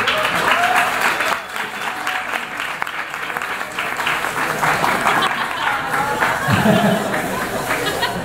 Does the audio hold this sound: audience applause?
yes